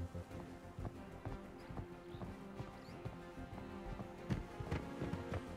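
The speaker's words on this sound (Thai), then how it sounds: "ไม่รู้เสียงเท้าเมื่อกี้คือบอทหรือเปล่า" Footsteps in the mobile shooter Arena Breakout, a steady patter of quick steps over a busy, continuous game ambience, with no talk.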